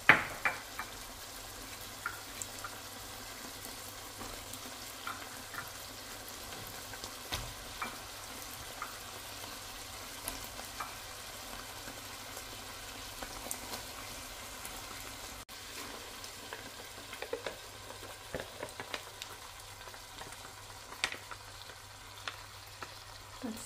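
Pork menudo with carrots, potato and liver sizzles steadily in a pan, a soft continuous frying crackle with scattered pops that holds evenly throughout with no voices.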